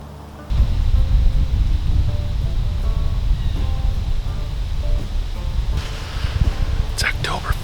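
Wind gusting through Michigan woods on an October evening gives a loud, steady broadband rush with rustling, close to the microphone and without pause. Someone speaks quietly over it.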